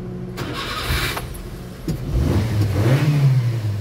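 Daihatsu pickup engine cranking with a grinding starter fault, a rough mechanical churn building into a rising engine note that swells louder toward the end, with no talking.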